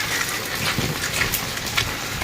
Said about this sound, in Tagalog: Ay, lakas ang ulan.